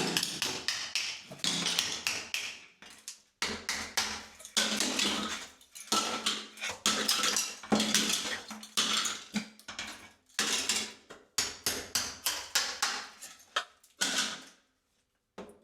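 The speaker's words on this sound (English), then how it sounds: "It's a good job we're knocking these off because they look like they were just about to fall off." Old ceramic tiles in a 1970s bathroom being knocked off the wall, a rapid series of sharp hammer knocks, chips and clattering ceramic in bursts with brief pauses, close and loud.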